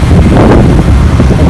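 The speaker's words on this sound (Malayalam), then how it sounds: "എപ്പോഴും ഒരു കാറ്റും ഉണ്ടാവും" Strong wind buffets the microphone outdoors at Uthralikavu temple, a loud, continuous rumbling roar that fills the whole moment without a break.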